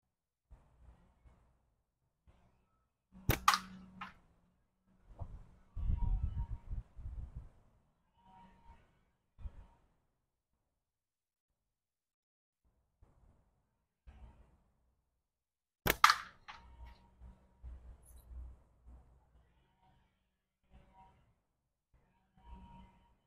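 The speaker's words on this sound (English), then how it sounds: "I'm shooting a hole right through the center of that can." A slingshot fires at a Mountain Dew can: two sharp, isolated snaps about twelve seconds apart, each followed by faint rattling and handling noise, with quiet gaps between.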